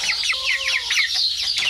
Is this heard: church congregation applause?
no